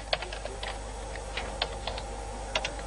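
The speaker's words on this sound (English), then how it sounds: "and finally it has to be typed." Someone types on a computer keyboard at a Muslim television station, with irregular soft key clicks over a steady low electrical hum and no voices.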